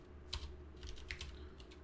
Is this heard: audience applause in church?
no